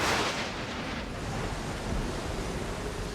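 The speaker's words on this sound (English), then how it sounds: "As night falls, the storm gets worse." A mountain storm at nightfall roars as a steady, dense wash of rain and wind, loud and continuous throughout, with no clear separate thunderclap standing out.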